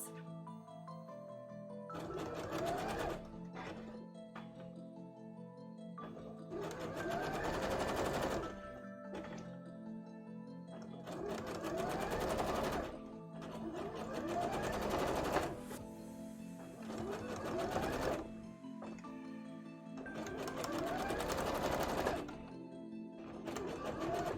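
A home sewing machine stitches fabric for a cosplay hood, running in repeated bursts of rapid mechanical stitching with short pauses between them, close and fairly loud.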